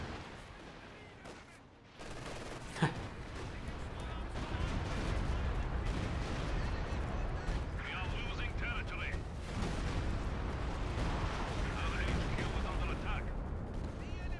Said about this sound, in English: Lots of rockets coming into the base.